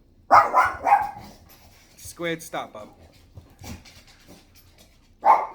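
A dog barks and pants close by while a person speaks to it, with barking returning at the end.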